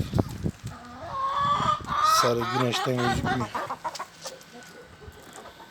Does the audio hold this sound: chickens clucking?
yes